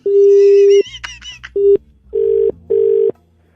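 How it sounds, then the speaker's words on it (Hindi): Loud telephone tones come close-up: a long steady beep, a quick burst of rapid dialing chirps, then shorter repeated beeps like a busy or ringback signal, in a prank call setting. "बार बार फोन मिला देता"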